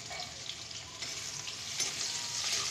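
Sliced onion with a pinch of salt fries in a pan, giving a continuous, close, fairly loud crackling sizzle that holds steady throughout with no voices.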